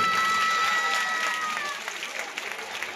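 Applause from a school function audience, a dense patter of clapping that starts loud and gradually thins and softens over a few seconds.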